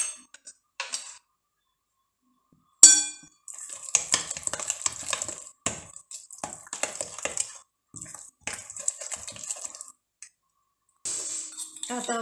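Grated horseradish is stirred in a bowl with a utensil, giving intermittent clinks and scraping taps in short bursts separated by silences.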